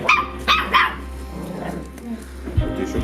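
A feral dog barks three times in quick succession at close range during a search to catch wild dogs around Bolderāja, with people talking nearby and low background noise.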